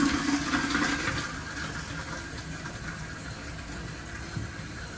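Toilet being turned back on after its supply hose is fixed, a close rush of water into the tank that eases into a steady filling hiss.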